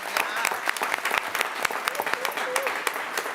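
An audience at a school board of education meeting applauds warmly, a steady patter of clapping from a modest crowd in an indoor room, continuous for several seconds.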